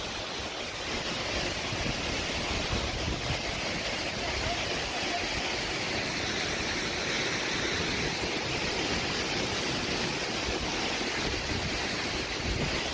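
A loud, steady roar of a waterfall at a Mahadev shrine in Udayapur rushes on without a break, with wind gusting over the microphone.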